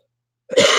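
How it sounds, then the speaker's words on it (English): One dry cough from an adult man breaks out of silence, short and close. "I've had this like dry cough for daggum 2 or 3 days now"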